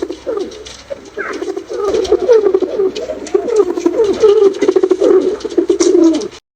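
Pigeon cooing in a steady run of soft, throaty rolling calls that swell and repeat for several seconds, close and clear with no talk.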